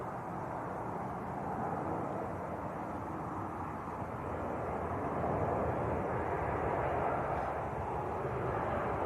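Ryanair Boeing 737 Max arriving from Seville at Manchester Airport, a steady broadband jet roar held at a distance, slowly swelling and staying constant throughout with no talk over it.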